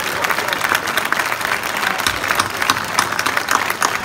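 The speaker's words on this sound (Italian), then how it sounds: "un applauso veramente massimo" Audience applause for a choir at a choral performance, dense and steady clapping filling the hall for the full stretch at a loud level, with some crowd murmur mixed in.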